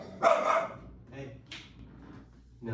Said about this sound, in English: Quiggy, no barking.